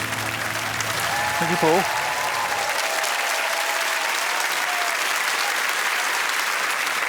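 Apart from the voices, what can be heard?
studio audience sympathy cheer and applause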